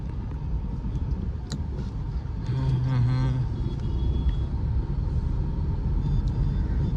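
A car rolls through the Patan market street with a continuous low road rumble, its engine note rising slightly midway, and faint town noise around it.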